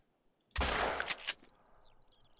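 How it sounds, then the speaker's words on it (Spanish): A single loud shotgun blast in the video game theHunter: Call of the Wild cracks and echoes briefly, followed by quiet with a few faint chirping sounds. "voy a intentar a 75 metros hacer un disparo con la escopeta"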